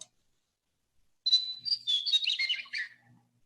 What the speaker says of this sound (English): so this one's our western meadowlark